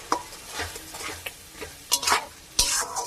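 Mutton with salt, turmeric and spices is sautéed and stirred in a pan. A spoon scrapes and knocks against the metal in irregular strokes over a continuous close sizzle, with no talk.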